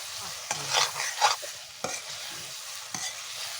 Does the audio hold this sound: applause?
no